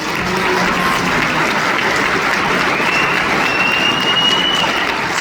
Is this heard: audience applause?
yes